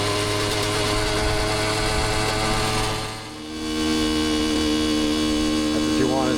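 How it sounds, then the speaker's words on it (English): A Honda CR85RB dirt bike engine idles steadily and cleanly after a carburetor pilot screw adjustment, a loud continuous hum that dips briefly before settling back to an even drone. "That's what you want, is a nice clean sound right there."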